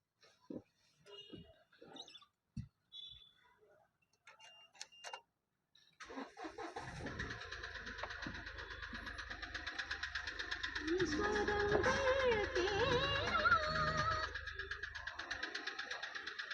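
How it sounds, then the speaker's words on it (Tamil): After some talking and scattered noises, a Mahindra TUV300 T8 SUV engine starts up and settles into a steady idle rumble that continues, rising slightly before leveling off. "நான் வண்டி ஸ்டார்ட் பண்ணி இன்ஜின் நாய்ஸ் உங்களுக்கு காட்டுறேன்"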